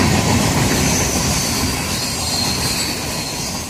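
A Florida East Coast freight train rolls past close by at a curve, a loud continuous rumble of rail cars with squealing wheels that fades slightly toward the end.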